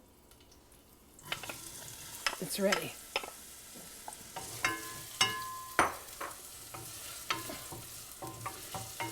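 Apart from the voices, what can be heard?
onions sizzling while sauteing in pan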